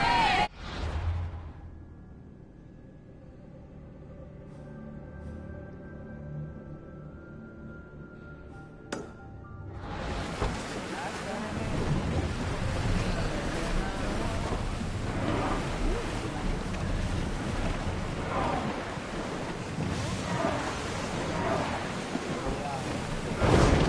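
A ship under sail on the ocean in Assassin's Creed Odyssey: a quiet start with a low hum and a sharp click, then a swell of rushing wind and wave wash that builds and holds steady, with voices faintly mixed in.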